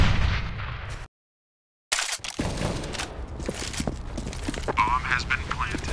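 Grenade and fire explosions go off in Counter-Strike: Global Offensive, a loud burst followed by a sudden silence, then crackling blasts and gunfire with voices talking over them.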